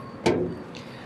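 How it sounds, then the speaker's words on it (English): The bonnet of a Skoda Kushaq 1.0 TSI is opened, one sharp metallic clunk followed by a short rattling tail and a faint second knock. "Opening the bonnet,"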